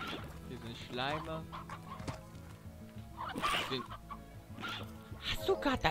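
Chickens clucking in the video game Slime Rancher, several short bursts of clucks and squawks spread across the stretch, moderately loud, with some speech-like sound faintly mixed in.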